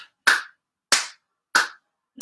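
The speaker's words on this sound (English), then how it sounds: "Bring the hands in front and behind, clap the hands." Hands clap during an exercise routine, four sharp, evenly spaced claps about two-thirds of a second apart, close and crisp with silence between them.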